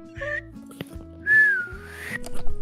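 A person practising whistling, making short, thin tones that rise and bend, including one longer sustained note, with other game sounds playing underneath.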